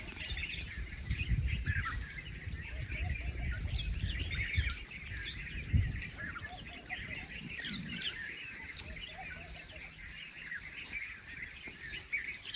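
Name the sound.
birds calling in a valley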